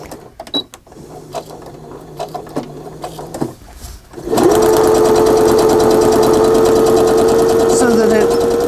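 A sewing machine stitches a fabric tuck page into a handmade journal: a few clicks and taps, then a loud, steady motor whir with a rapid needle rhythm running continuously to the end.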